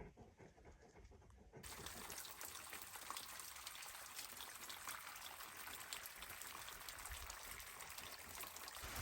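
Steady running water trickles and splashes from a cistern nearby, a constant wet rush that swells after a quieter opening, with no voices.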